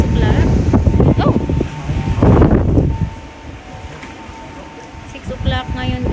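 Strong gusting wind buffets the microphone on an evening outing as a storm approaches, loud low rumbling bursts that ease after a few seconds, with voices talking over it.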